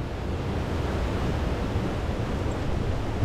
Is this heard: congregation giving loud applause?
no